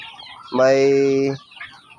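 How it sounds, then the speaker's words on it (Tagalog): A chicken among backyard poultry gives a single drawn-out, harmonic squawk lasting under a second, near and fairly loud, with quiet surroundings before and after. "Yung manok natin, ito lang sila."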